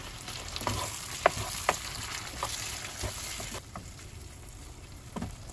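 Meat sizzles and fries in a pot with tomato added while a spoon stirs it, with scraping clicks and knocks over a steady crackling hiss.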